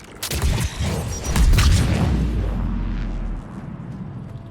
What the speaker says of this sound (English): since we have a lot of biotics in the team, we're already getting explosions.